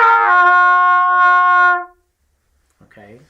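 A single sustained trumpet G played pitched high with a pinched, thin tone lasts nearly two seconds, followed by silence and then a brief bit of speech.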